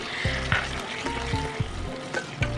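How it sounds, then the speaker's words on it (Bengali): Finely chopped onions fry in hot mustard oil with a soft, steady sizzle. Repeated short bumps and knocks of a utensil stirring in the pan sound close by. "তেলটা ভালো মতো গরম হয়ে গেলে দিয়ে দেবো তিনটে ছোটো সাইজে কুচিয়ে রাখা পেঁয়াজ"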